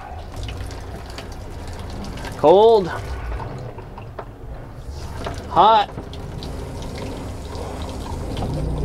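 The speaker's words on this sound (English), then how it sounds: "I've removed the shower head and brought it down here so I can kind of control the flow." Water runs steadily from a shower head hose held low in an RV shower, a continuous flow with someone briefly speaking over it twice.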